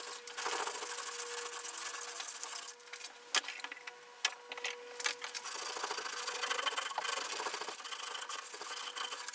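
Hand sanding of a small wooden box part using sandpaper wrapped around a lollipop stick, a steady close scratchy rubbing that runs continuously with a brief pause midway, no voices.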